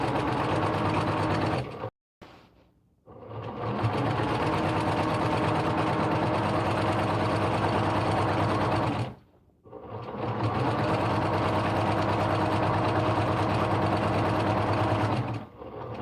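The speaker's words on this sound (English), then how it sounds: "I'm just going to sew off and then flip it around." A domestic sewing machine stitches a pillowcase seam in two long steady runs, loud and close, with brief pauses between bursts and no talking.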